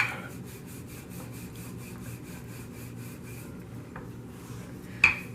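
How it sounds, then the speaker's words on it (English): Empanada dough rolled thin on a wooden cutting board with a rolling pin, a soft rhythmic rubbing and scraping repeated in steady strokes up close, ending with a sharper knock near the finish. "got it all over the cutting board, and we're just going to roll it out"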